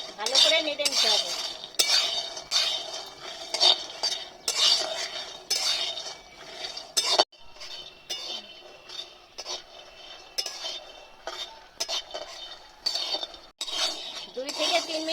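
Peanuts tossed and dry-roasted in a wok, the spatula scraping and the nuts clattering in steady rhythmic bursts, close and fairly loud, with a brief pause midway.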